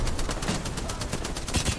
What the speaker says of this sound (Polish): Dwa strzały ze snajperki nie trafione